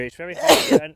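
A single loud sneeze from a man, sharp and close, breaking in right after a few spoken words.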